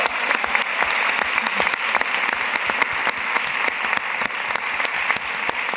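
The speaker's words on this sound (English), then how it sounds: "Let's just do one more round of applause" Audience applause at a Dance/USA closing plenary, a full room clapping steadily with crisp individual claps audible through the wash, sustained and even for several seconds with no voices.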